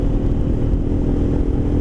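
Aprilia Caponord 1200 motorcycle fitted with a GPR exhaust, its engine running steadily and loudly up close with a deep, continuous rumble for the whole stretch, no voices over it.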